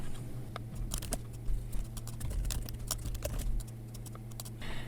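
Quick irregular clicks of typing on a computer keyboard, close and fairly soft, come in bursts over a low steady hum with no talking.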